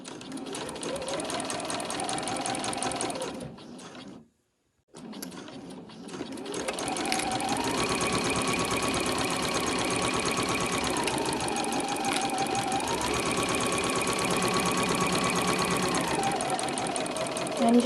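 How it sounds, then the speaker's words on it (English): Close, loud sewing machine stitching the diagonal edges of cotton bunting in steady runs with a short pause for a swivel, then a long continuous hum that rises and falls slightly in speed. "So you're just sewing along those 2 diagonal edges"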